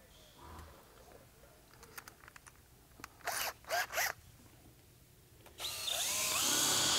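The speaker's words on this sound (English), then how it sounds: "You'll need to drill a nice hole in there." A few short whirring bursts of a power drill with a half-inch bit, then the drill runs steadily and louder at the end, close by, boring a hole in wood.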